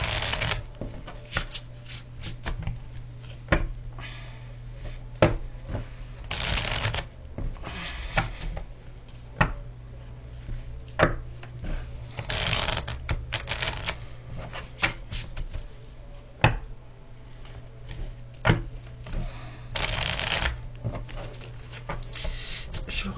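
A brand-new deck of tarot cards being shuffled over and over: crisp riffles and flutters that come in bursts with short gaps, close and fairly quiet, over a low steady hum, with no voices.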